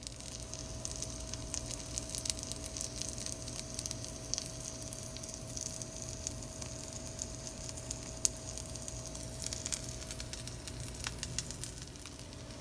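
A grilled cheese sandwich frying in a cast iron skillet gives a steady, close sizzle with fine crackles and pops, continuous and alone without talk.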